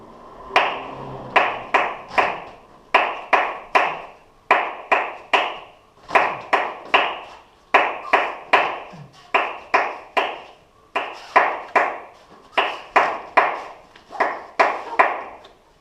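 Crisp, close hand clapping keeps time for capoeira ginga footwork, in steady groups of quick claps separated by brief pauses that repeat throughout with no talking.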